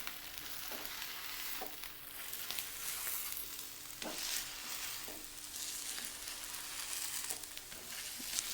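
Urad dal dosa (minapa attu) with onion and green chilli sizzling steadily on a hot pan, an even frying hiss throughout with a few faint scraping clicks as it is turned.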